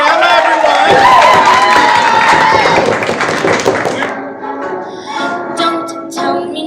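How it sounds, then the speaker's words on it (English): An open mic audience bursts into loud clapping and cheering for a performer named Emma. A voice rises over the crowd at the start, and the applause settles into scattered claps and calls. "Give a round of applause for Emma, everyone."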